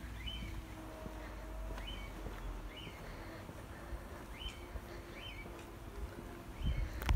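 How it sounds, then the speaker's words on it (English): A parrot sings from a window somewhere off in a quiet street, its short repeated chirps and whistles faint and distant over low outdoor background noise. "I think someone's got a parrot or something. Just hear it singing from the window."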